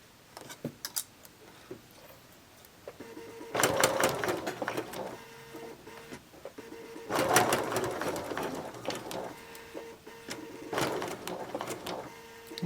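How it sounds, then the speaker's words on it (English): Sewing machine stitching a seam at 5/8 inch allowance on a tiered maxi skirt, with several bursts of rapid mechanical stitching separated by pauses and quieter handling noises, at moderate level with no speech. "And we're sewing this at 5/8 inch"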